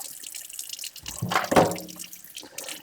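A Bissell Crosswave HydroSteam filter being rinsed under running water, with a burst of splashing flow in the middle of the clip against a quieter background.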